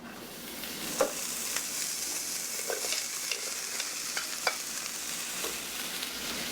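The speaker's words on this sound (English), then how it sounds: "our mushrooms and onions are cooking on the stove" Mushrooms and onions sauteing in olive oil in a pan on a stove give a steady, fairly quiet sizzle, with a few soft clicks and taps of stirring scattered through it and no voices.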